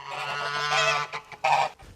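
Toulouse goose, a male, giving loud, harsh nasal honks close by, a sustained call followed by a short pause and a second burst.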